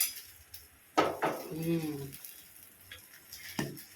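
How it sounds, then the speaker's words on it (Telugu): A metal pot clatters and scrapes as it is shifted aside on a stovetop while making double ka meetha, a few sharp clinks and a brief sliding rub, with a voice talking nearby. "ఈ గిన్నెని చెరుతల్లి పక్కన సిఫ్ట్ చేసేసి దీన్ని తీసుకొద్దాం దగ్గరికి"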